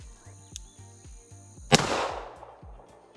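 A single loud rifle shot cracks at a jungle shooting range in Guatemala, followed by a long rolling echo that fades into the trees, with a low rhythmic hum continuing underneath.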